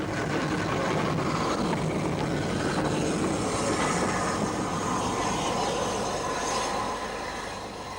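A rebuilt West Country class light Pacific steam locomotive, Woolacombe, hauls a train out behind the Bournemouth Express, a loud, steady rumbling roar with rail noise held near throughout before easing slightly at the end.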